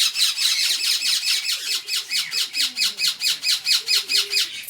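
Pet parrots squawk loudly and repeatedly at close range, a rapid rhythmic train of harsh calls pulsing without pause, with a few softer chirps threaded underneath.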